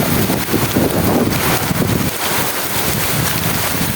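Heavy rain pours down steadily outdoors, a dense continuous roar with gusty wind buffeting the microphone, no voices over it.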